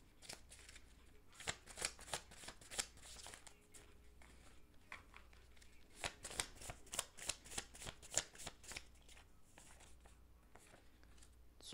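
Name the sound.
shuffling and drawing tarot cards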